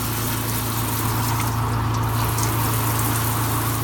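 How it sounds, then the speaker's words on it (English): Water running out of a Della portable spin-cycle washing machine, a steady continuous gushing hiss with a low pump hum underneath, close and fairly loud throughout. "the water is running out pretty clear now"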